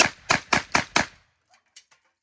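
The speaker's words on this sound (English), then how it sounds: "let's show you how the 28 gauge cycles again on the pumpkin" A cheap Hatfield 28 gauge semi-automatic shotgun fires at a pumpkin: five sharp, loud reports in quick succession, followed by a few faint mechanical clicks as the action settles.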